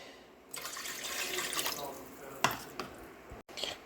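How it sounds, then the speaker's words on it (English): Water is poured into a container to make a pickling brine for refrigerated pickled onions, a continuous close splashing stream that tapers off into a few drips and clinks. "we're going to put 4 cups of water here to make the brine"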